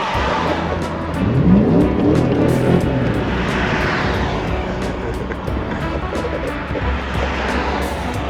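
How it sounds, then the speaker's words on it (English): A BMW E34 540i on a drive at a vintage car event, its engine loud and swelling past with road and wind noise, plus a string of faint, regular ticking clicks throughout. "I'm gonna go drive a little bit now, and Greg is gonna shoot some panning shots"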